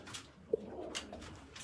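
Racing pigeons in a loft coo softly, a few low murmuring calls and faint rustling close by, quiet and without talk.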